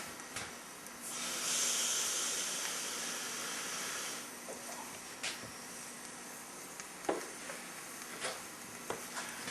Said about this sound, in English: it's making a nice flame above the edge of the stove